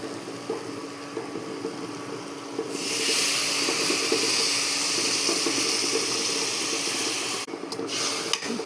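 Dissolved tamarind water goes into a curry pan where spice masala has been frying in oil for a bitter gourd curry, giving a steady hiss and sizzle that swells louder partway through and continues alone.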